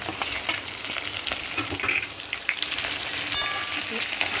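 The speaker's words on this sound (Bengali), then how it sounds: "এবার আমি এই আদা বাটাটা এর মধ্যে দিয়ে নেব," Loud frying sizzle with scraping and stirring sounds as ginger paste cooks in a pan, crackling irregularly the whole time.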